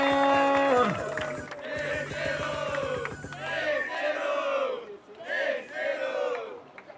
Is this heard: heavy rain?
no